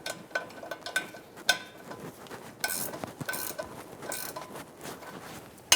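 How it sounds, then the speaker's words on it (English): Metal wrenches clinking and ratcheting as they tighten the exhaust bolt nuts on a 2007-2011 Toyota Camry 2.4L catalytic converter pipe, with a 13mm wrench holding the bolt head and a 12mm turning the nut; scattered close metallic taps and scrapes. "I'm going to be using a 13mm wrench to hold the head of the bolt and a 12mm wrench to tighten the nut"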